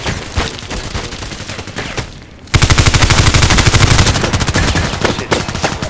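A Colt IAR machine gun in the video game Contract Wars fires in sustained fully automatic bursts. The rapid shots come in an even rhythm and are loud and close, and a short pause splits the firing into two runs.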